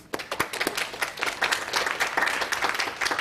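An audience claps steadily to welcome speakers at a conference session, with dense, close applause throughout.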